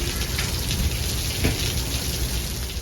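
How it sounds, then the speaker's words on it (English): Steady rain falls throughout outside a commuter rail station, a dense, even hiss of drops with no voices. "Bad news, the rain's back."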